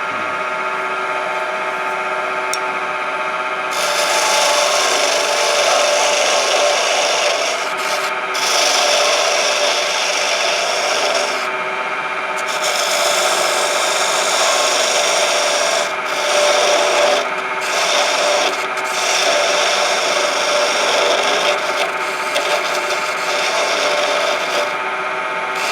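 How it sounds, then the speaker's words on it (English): A wood lathe turns a cheese grater handle while a tool cuts it, giving a continuous loud, close rasping and scraping hiss that breaks briefly several times as the cut lifts off. "Turn the lathe on."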